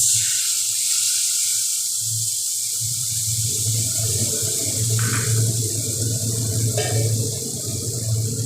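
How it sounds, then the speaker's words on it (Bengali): Water poured into a soaked turmeric and cumin spice paste in a pan while cooking paneer, a steady trickling splash over a low hum, rising louder midway and holding to the end. "সামান্য একটু জল দিয়ে দেবো,"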